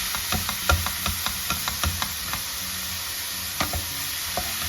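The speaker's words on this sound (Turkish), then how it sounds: "kıymalarımızı karıştırıyoruz" Minced meat fries in a pan for stuffed peppers, stirred with repeated scraping taps over a steady low sizzle, close and moderately loud, with no voices.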